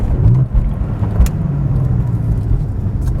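Porsche 911 Gemballa GTR BiTurbo rumbling steadily while driving, a low engine drone with faint turbo whistle, heard from inside the car, continuous and moderately loud with no talk.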